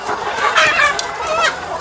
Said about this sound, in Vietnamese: bây giờ mấy anh đang vô bắt mấy gà nha